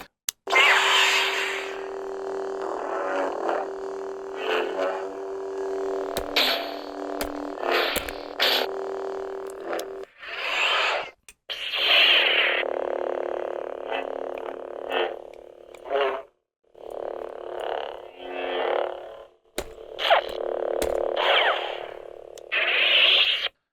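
A handbuilt toy lightsaber's buzzy electronic hum swells and cuts off repeatedly with swings, sharp bursts of crackling clash noise breaking in between, loud and close.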